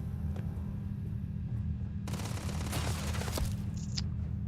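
A loud burst of rapid gunfire in Starfield erupts abruptly, lasting about a second and a half over a steady low background rumble, then cuts off.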